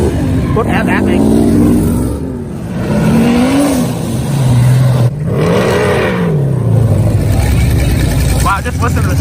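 Muscle car engine at an outdoor car meet, rising and falling in revs with a low throaty roar over several swells, heard close, with people talking and exclaiming over it throughout.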